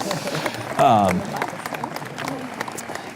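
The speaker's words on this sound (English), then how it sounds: "give him a round of applause" Wedding guests applaud during the ceremony, a moderate burst of clapping with a brief whooping cheer near the start and people talking throughout.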